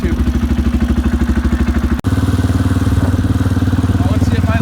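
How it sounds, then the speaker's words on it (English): A Sears Suburban loader's small engine idles through a cold-start warm-up with a loud, steady, rapid chugging pulse. There is a momentary break around the two-second mark, and the close rumble then resumes. "I'll let that thing warm up for a bit"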